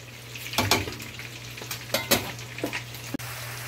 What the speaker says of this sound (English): here I have the herbs frying up now